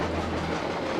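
A train rumbles along the rails with a dense, steady roar and faint clickety-clack, close and loud throughout.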